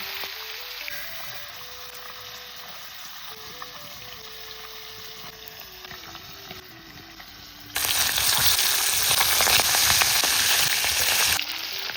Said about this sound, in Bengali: গরম তেলে মাছের মাথাগুলো ভেজে নিচ্ছি।